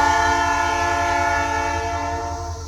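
A westbound Norfolk Southern rock train passes at Mount Orab, Ohio, its loud horn sounding steadily over the heavy rumble of the rail cars throughout.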